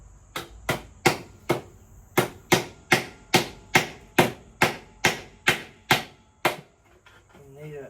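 Steady hammer blows strike wood while working on a damaged floor brace, about fifteen sharp, evenly spaced knocks up close, then a few softer taps and faint rustling.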